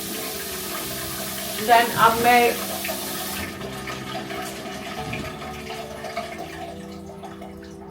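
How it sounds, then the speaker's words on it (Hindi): Water runs steadily from a tap in a bathroom while a makeup brush is washed, a soft rushing stream with a few brief splashes midway, then the flow stops. Someone speaks a word. "फिर मैं इसको वॉश करके रखती हूँ इसके ब्रश को"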